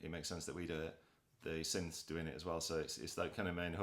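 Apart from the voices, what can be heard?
No everyday noises stand out.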